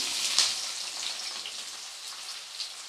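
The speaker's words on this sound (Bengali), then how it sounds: "তখন দিয়ে দিতে হবে এখানে পেঁয়াজ কুচি" Chopped onion drops into hot oil with whole garam masala spices for a Bengali chicken masala, making a dense, close crackling sizzle like light rain that stays even across the moment.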